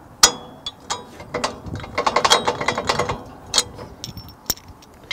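A ratchet wrench clicks in quick bursts while two bolts are backed out of the lock box on an Arrowquip Q-Catch cattle chute, with sharp metallic ticks and a few louder clanks, close by with no talk.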